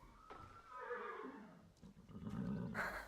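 A horse neighs in the Star Stable Online video game, a loud, close whinny that rises and falls, then gives way to snorting and a short burst of further game sound at the end.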